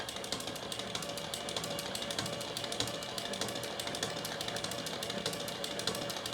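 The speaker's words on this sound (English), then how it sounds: "I'm just gonna turn it on now and start making my I-cord" An I-cord maker machine knitting yarn, running with a fast, steady mechanical rattle and clicking that continues evenly throughout, close and fairly loud, with no talking.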